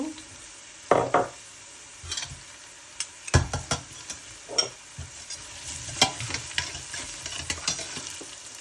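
Fried onions (birista) with ghee added, sizzling softly in a pan for a biryani, with scattered stirring scrapes and clinks cutting through a steady low hiss.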